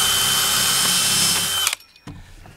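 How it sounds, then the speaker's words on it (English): Power drill boring a hole through deck boards during a rotten deck board replacement, a loud steady whir for over a second and a half that cuts off abruptly, followed by a short quieter mechanical sound. "So I'm simply going to drill."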